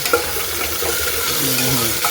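Tomatoes tossed into hot oil tempering with garlic for fodnicha bhaat, a short burst of steady sizzling and frying hiss with a light stirring scrape, close up.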